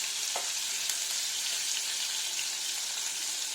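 Catla fish frying in hot oil, a steady close sizzle with faint crackles running continuously and no talking.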